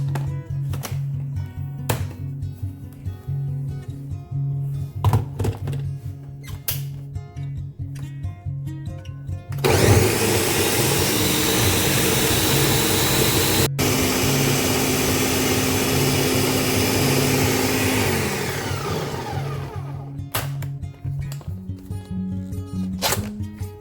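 A Ninja blender purees cooked sweet potato for homemade dog treats, kicking in as a loud steady whir for about ten seconds, with a brief stop partway through and quieter kitchen clatter before and after.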